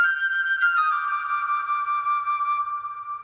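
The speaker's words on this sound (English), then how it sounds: "Really nice, airy, ambient sounding flute." An airy, ambient flute sample drenched in Valhalla Vintage reverb plays a long, clear sustained note that steps down to a lower pitch and then rings on, soft and alone.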